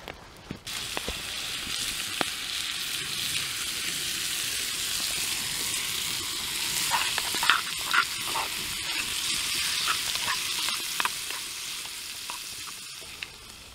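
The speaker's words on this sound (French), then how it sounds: "Je vais mettre quelques lardons pour la salade." Lardons frying in a pan over an outdoor campfire meal, a steady close-up sizzle and crackle that runs unbroken, with scattered pops and stirring scrapes.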